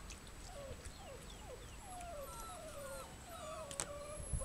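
Goldendoodle puppies, around five to six weeks old, whimper and squeal in thin, rising and falling cries, faint and somewhat distant over a steady background hiss.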